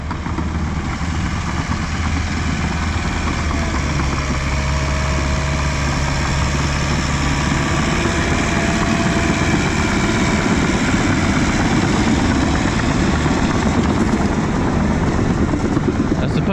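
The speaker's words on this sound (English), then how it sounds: "Sounds like that little 4-cylinder motor is going to come out from under the hood sometimes" A small 4-cylinder truck engine idles loud and close with a steady low rumble and rough throb that runs on without a break.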